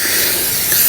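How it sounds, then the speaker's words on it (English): Short, steady hiss of water misted from a spray bottle onto a surface at close range, alone with no talk. "I'll mist some water on it"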